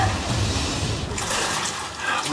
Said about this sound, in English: Just take a look at the flow of water.